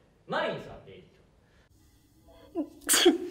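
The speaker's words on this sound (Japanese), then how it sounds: "今のくしゃみ" A person sneezes once, loudly and close by, with a brief breath before it and a few quiet spoken words just ahead of the burst.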